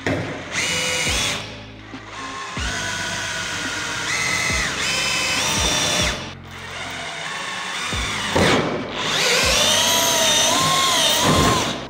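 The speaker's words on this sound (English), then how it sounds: "I'm still kind of nervous to drill this" A power drill bores a pilot hole in a Subaru WRX body to mount an STI wing, whining loudly and steadily in several bursts with brief pauses and shifting pitch, no talk.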